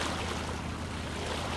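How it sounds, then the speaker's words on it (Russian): Water lapping in steady waves on a dark underground cave river in Metro Last Light, a continuous low wash close by with no voices over it. "Волны такие идут."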